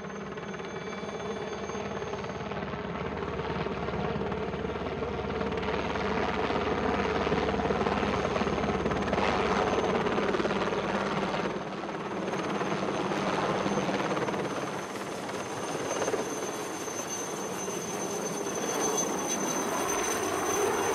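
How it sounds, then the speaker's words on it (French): A helicopter arriving with an injured patient: a loud, steady rotor and engine roar fills the whole stretch without pause, close and dominant, with no voices standing out. "Ah, c'est l'hélico, le blessé qu'on attendait."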